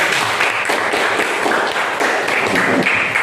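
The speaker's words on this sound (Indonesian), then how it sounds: "tepuk tangan untuk kelompok 1" Students in a classroom clap for the first group after its presentation. The applause is loud and continuous, made of dense, close hand claps that keep an even level the whole time.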